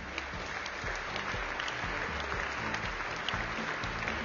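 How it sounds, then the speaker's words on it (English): Sustained audience applause at an awards dinner, a dense, even patter of many hands clapping that holds steady throughout, somewhat distant and moderately soft. "a big round of applause for our Rising Stars of 2012"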